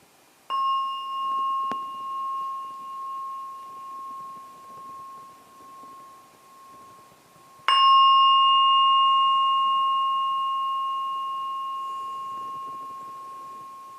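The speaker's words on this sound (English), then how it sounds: "I'm now going to ring the gong 3 times." A meditation gong is struck twice, each stroke a clear ringing tone that sustains and slowly decays, the second strike louder and longer; the struck tone sounds small and bell-like, with no talk.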